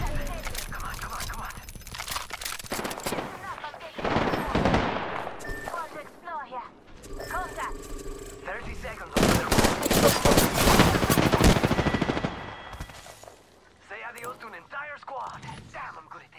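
Gunfire erupts in the battle royale game Apex Legends, with repeated bursts of shots coming in clusters, loudest in the middle, and a player talking between volleys.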